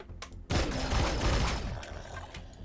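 Gunfire in the Empyrion Galactic Survival video game, a loud, dense burst of rapid shots that starts abruptly and keeps going, with no talking.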